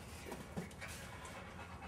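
A dog pants quietly and steadily while being made to sit before a walk, soft rapid breaths continuing throughout at low level.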